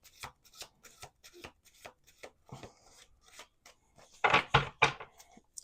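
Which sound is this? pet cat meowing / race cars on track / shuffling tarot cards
shuffling tarot cards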